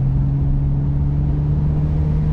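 A Bentley Continental GT W12 engine runs smoothly, giving a steady, even low hum heard from inside the cabin with no change in pitch.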